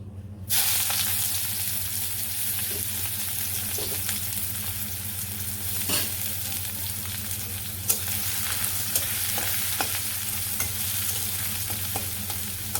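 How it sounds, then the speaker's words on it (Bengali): Chopped onion sizzles in hot oil in a village kitchen, a dense steady frying hiss heard close up with a few faint scrapes and taps of a utensil. "তেল গরম হয়ে গেছে পেঁয়াজ কুচি করে রাখছি পেঁয়াজ কুচি দিয়ে প্রথমে দিয়ে দিই"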